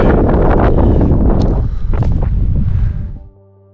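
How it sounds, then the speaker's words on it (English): Strong wind buffets the microphone on an exposed mountain ridge in Kluane National Park, Yukon, a loud, continuous roar that gusts up and down before cutting off abruptly near the end. "it's getting windy up here"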